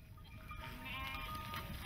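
Sheep in the arid landscape of Rajasthan bleat faintly and at a distance, a quiet wavering cry over low background rumble.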